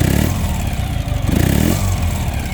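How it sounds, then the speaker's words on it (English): A 2013 Ural Patrol motorcycle with a carbureted engine and a throaty exhaust, revved lightly up close: a loud, steady engine note that rises in a couple of quick surges before settling back. "it's got a really nice throaty sound in that exhaust, and it revs so freely"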